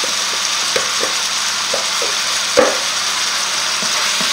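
Chicken curry with pepper and herbes de Provence sizzles loudly and steadily in a pan, with repeated soft scraping stirs and one sharper knock partway through.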